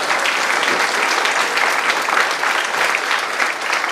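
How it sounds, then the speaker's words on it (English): Students at a consumer protection law awareness workshop applaud the presenters, a steady, loud burst of many hands clapping that runs dense and unbroken throughout. "all the students can stand up and give them claps"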